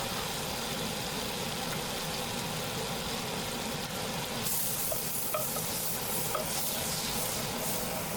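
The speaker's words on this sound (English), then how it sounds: "I put little bit butter also to my oil for the taste." Butter sizzling in hot oil for a paneer biryani makes a steady, close hiss that grows brighter and louder about halfway through, with faint scattered pops.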